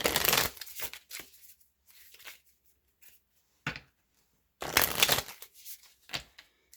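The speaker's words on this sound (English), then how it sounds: "I'm going to choose a couple of the Island Time Wellness cards to" Island Time Wellness oracle cards are shuffled in several quick riffling bursts separated by short pauses, close and fairly quiet in a still room.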